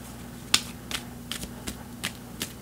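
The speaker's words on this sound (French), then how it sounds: "je vais encore tirer une autre carte pour comprendre davantage" Tarot cards being drawn and handled, several crisp snapping flicks spaced irregularly, close and clear over a faint steady hum.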